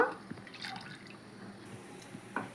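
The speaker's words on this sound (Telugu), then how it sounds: "పాలు వేస్తున్నాను" A glass of milk poured into a pot for masala tea, a soft liquid trickle with a few drips and light splashes, fairly faint and close.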